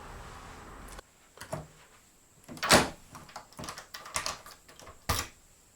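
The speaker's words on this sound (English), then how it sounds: "It unlocks, but doesn't fully disengage." A composite house door lock worked back and forth, giving a series of close metallic clicks and clunks from the gearbox mechanism, several sharp clacks spaced irregularly with quiet gaps between.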